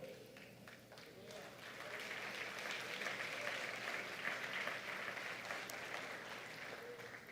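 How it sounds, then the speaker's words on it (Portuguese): A church congregation applauds at a worship service, with sustained clapping that swells and then holds steady for several seconds over a diffuse crowd roar, and voices sound faintly underneath. "Então aplauda Jesus."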